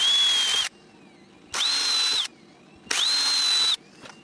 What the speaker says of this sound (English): What I'm going to do now is endeavour to use these screws just to mark the holes.